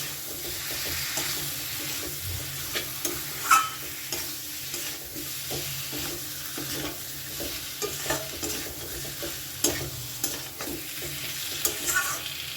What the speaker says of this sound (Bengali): ভেজে রাখা মাছের মাথার টুকরো ও আলু মশলাটাকে এর সাথে খুব সুন্দরভাবে মিশিয়ে নেব